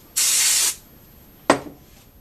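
Brake cleaner sprays onto Mosin rifle parts during cosmoline removal: one sustained aerosol hiss lasting about half a second, a pause, then a shorter sharp burst, loud and close with nothing else around.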